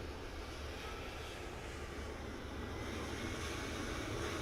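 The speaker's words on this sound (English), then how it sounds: "I hear a plane." A simulated airplane in Microsoft Flight Simulator 2024 comes in to land at an airport, its engines a steady, broadband roar that holds throughout and swells slightly toward the end, with no talking.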